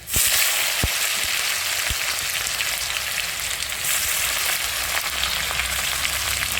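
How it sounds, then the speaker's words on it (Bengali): Garlic and dried red chillies with a tomato added fry loudly in a pan, giving a steady, close, dense sizzle with a few sharp pops and crackles near the start, no voices. "রসুন আর শুকনো লঙ্কা লাল লাল হয়ে গেলে দিয়ে দেবো একটা টমেটো।"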